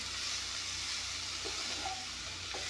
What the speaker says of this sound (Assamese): অলপমান ভাজি ল'ম, মানে বেছি সময় নাভাজোঁ যিহেতুকে বইল কৰি লৈছোঁ